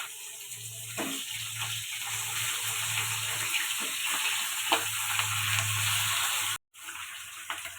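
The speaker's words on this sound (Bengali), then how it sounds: "মাছটা ভেজে নেব।" Pabda fish fry in mustard oil in a kadai, a constant close hissing sizzle with a low bubbling undertone and a few faint clinks, cutting out briefly near the end.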